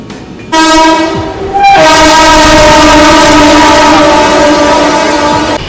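The Seemanchal Express, an Indian passenger train, rolls slowly past with a loud, sustained horn blast, briefly interrupted then resumed, over steady rail rumble close by.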